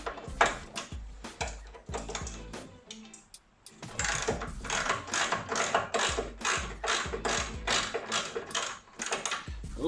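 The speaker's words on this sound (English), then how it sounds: "First thing we're going to do is try and loosen this bolt." Ratchet loosening a bolt on a Land Rover outrigger, a long run of steady rapid clicking strokes, close and loud, briefly pausing before resuming, with no talk.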